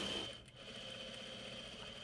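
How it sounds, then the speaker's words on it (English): A Juki DDL-8700 industrial sewing machine runs a short test seam through four layers of cotton, giving a steady close mechanical whir for about two seconds with no talk. "we'll do one little test sew to see how our tension is right off the bat"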